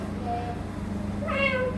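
A cat meows twice indoors, a short faint mew followed by a louder, drawn-out meow, over a steady low hum with a voice nearby.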